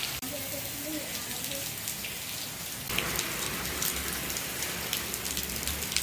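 Dense, steady downpour roaring continuously, growing slightly louder partway through, with faint voices briefly audible early on.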